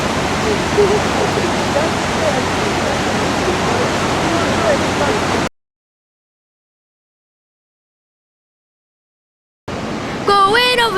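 Floodwater pouring over a dam spillway in Newmarket, New Hampshire, a dense continuous roaring rush close by that cuts out abruptly midway, then returns with a brief voice over it.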